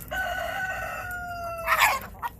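Backyard-farm chickens squabble, one giving a long drawn-out squawk that trails off, followed by a burst of sharp, harsh clucks and a final short squawk, close by and loud.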